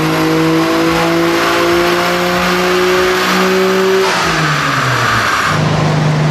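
A Nissan Skyline GTR with an RB30 engine revs hard on a dyno, a loud continuous engine roar climbing in pitch, then dropping and climbing again through gear changes, with no talk.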